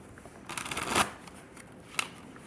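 Tarot cards are shuffled by hand close up, a crisp riffle that builds to a burst, then a second short flick a moment later, in a quiet room.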